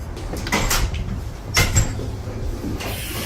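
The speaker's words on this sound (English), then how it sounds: "Oh, they're locking me out?" A door in a police building is pushed shut and locked during a First Amendment audit. Two or three solid clunks and latch rattles sound close by over a steady room hum.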